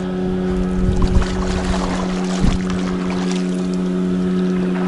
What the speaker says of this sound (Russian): моторка у них